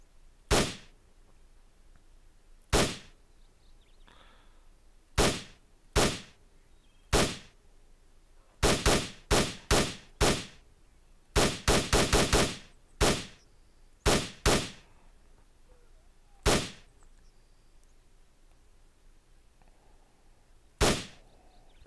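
Gunfire in Arma: Armed Assault, sharp loud individual shots spaced irregularly, with bursts of rapid double and triple shots in the middle, against quiet background.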